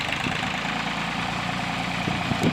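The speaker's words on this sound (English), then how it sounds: "We got Joey on the tractor." A tractor engine runs on a farm pasture where fence wire is being pulled, a steady low rumbling drone that stays even and fairly loud throughout, with faint knocks near the end.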